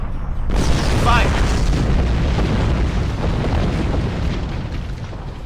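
Starship weapons fire and explosions in the Star Trek Online space game, against Klingon ships: a sharp burst at the start opens into a sustained, loud, rumbling roar of booms and blasts, with a voice briefly heard over the din.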